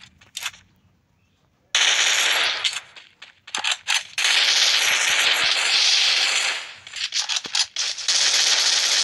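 Gunfire erupts in a Garena Free Fire match, loud and dense, with sustained bursts of rapid shots and harsh crackling bangs stretching across several seconds, broken by a short quiet gap near the start.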